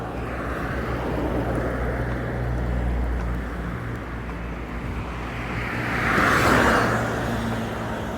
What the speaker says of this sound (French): Ah, les voitures passent avec beaucoup de vitesse.